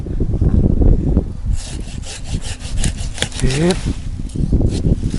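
A folding handsaw rasps through a thick tree branch in quick back-and-forth strokes, close and loud, with a person speaking briefly before the cutting starts.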